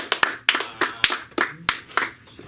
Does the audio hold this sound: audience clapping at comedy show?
yes